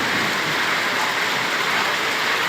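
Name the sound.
heavy rain falling in Rangpur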